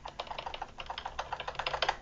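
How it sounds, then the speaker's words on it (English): Steady typing on a computer keyboard while testing microphone settings in a voice chat program, a continuous run of close, crisp key clicks in an irregular rhythm with no talking. "So like, if I try typing something,"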